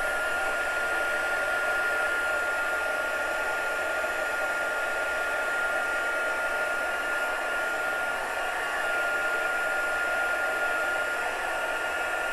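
Heat embossing tool blowing hot air over a Halloween trick-or-treat card, a steady loud whirring hiss that runs unbroken and close the whole time.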